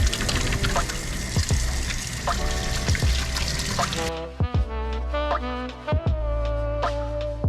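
Tap water runs steadily into a sink while oily hands are washed, a close continuous pouring splash with occasional sharper knocks and shifts in the flow.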